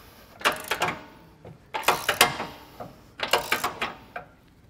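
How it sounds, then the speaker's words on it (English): A ratchet wrench on an extension clicks in three separate bursts of quick, close mechanical ticks while tightening a bolt through a Roadmaster Direct-Connect base plate on a 2022 Jeep, with no talk. "you are going to need an extension here to be able to tighten down the bolt that runs through the inside where the arms are going to go"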